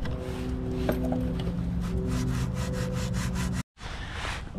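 Steady, close scraping of abrasive on wood in quick repeated strokes, briefly pausing before resuming.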